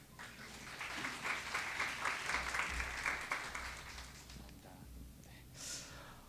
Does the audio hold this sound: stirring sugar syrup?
no